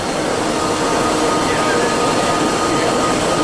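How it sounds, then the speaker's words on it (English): An automatic needle grinder grinds 14 needles at once into basic lancet points on a trade show floor, a loud, steady broadband machine roar running unbroken from start to finish. "the last machine we're going to talk about is the needle grinder"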